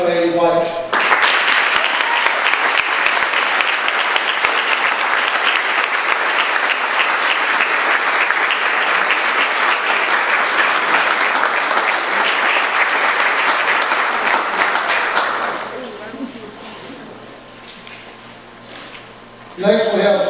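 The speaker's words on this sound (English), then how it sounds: "Please, let's give a round of applause for Wanda Clay White" An awards-ceremony audience breaks into sustained applause, a thick wash of clapping that holds steady for about fifteen seconds before tapering off, followed by quieter room sound.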